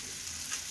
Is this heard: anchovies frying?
yes